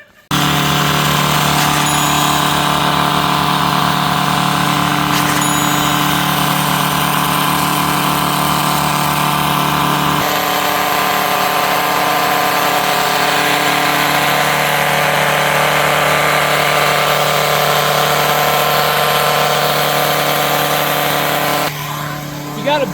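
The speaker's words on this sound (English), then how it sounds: "you need a gas powered turf broom" Gas-powered turf broom running on artificial grass, a loud continuous engine drone with a shift in pitch partway through that cuts off near the end.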